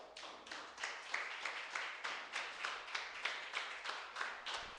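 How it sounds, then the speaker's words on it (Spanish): Church congregation clapping in a steady rhythmic beat, faint and somewhat distant, with no voices over it. "Dele un aplauso al Señor"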